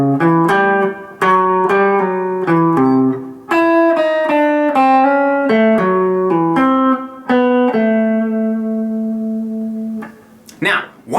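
A major blues guitar lick in A plays a quick run of picked notes with slides and a chromatic step down. The run settles onto a long, ringing final note, played close and clear.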